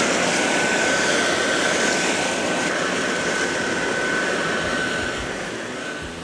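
A STIHL BRA 600 twin-battery 72-volt backpack blower runs steadily up close, giving a constant broadband whoosh with a faint high whine, easing slightly lower toward the end.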